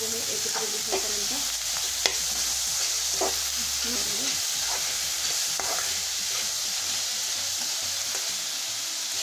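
Onion and tomato for pav bhaji stir-fried in a pan, a steady close sizzle broken by repeated scrapes and knocks of a spoon stirring, with no voices.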